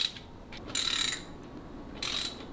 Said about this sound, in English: There are 9 bolts around this bad boy that we're going to be backing out here.